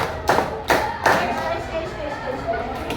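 Classroom children clap in unison on a teacher's command, three sharp group claps evenly spaced, followed by a quieter murmur of voices.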